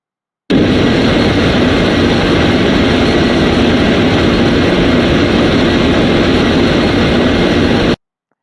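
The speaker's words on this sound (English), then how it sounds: "the elevators are moving upward and the aircraft" Airplane engine during a climb, a loud, steady, unbroken drone that holds at an even level for about seven seconds, then cuts off abruptly.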